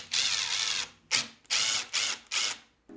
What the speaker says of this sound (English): All you have to do is remove the 2 lower screws